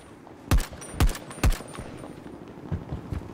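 Gunfire in the video game Battlefield 2042: three sharp, loud shots in quick succession with roughly half-second gaps, followed by a few fainter, more distant shots over a low battlefield rumble.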